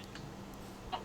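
Chicken in the Minecraft video game giving a few short, quiet clucks over a low steady background hum, with the last clucks slightly louder.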